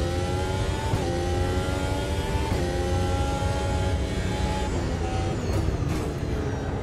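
Race car engines roar steadily in the Automobilista 2 VR racing sim, a dense, continuous drone with rising and falling pitch as the cars accelerate and shift, loud throughout with no talk.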